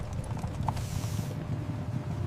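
Horse hooves clip-clop at a steady walking rhythm as a sound effect for the 1802 era of horses and oil lamps, moderately close and fairly quiet, with no talk over them.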